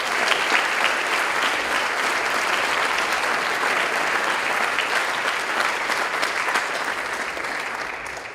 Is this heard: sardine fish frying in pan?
no